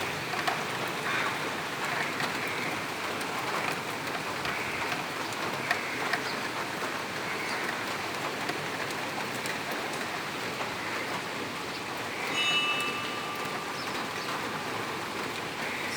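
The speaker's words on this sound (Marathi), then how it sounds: "आज सुद्धा असा पाऊस पडतोय आमच्याकडे" Steady monsoon rain falls outside an open window in July, a continuous soft hiss of drops on surfaces, even and moderately distant, with faint faraway sounds beneath and no one speaking.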